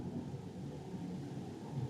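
Steady rain falls with a low thunder rumble beneath it, a constant, even wash of sound with no distinct claps and no voices.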